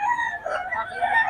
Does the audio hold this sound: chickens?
yes